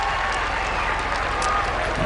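Crowd at a women's T20 cricket bronze medal match between England and New Zealand at the Commonwealth Games, a dense continuous roar of voices and clapping joining the fielders' appeal.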